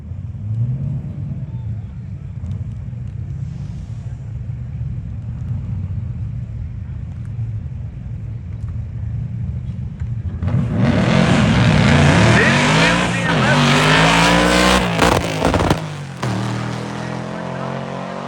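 A nitrous-fed Pontiac Trans Am and a Ventura drag racing: a low engine rumble idles under an announcer, then both launch into a loud, rising roar that climbs through the gears before cutting off near the end.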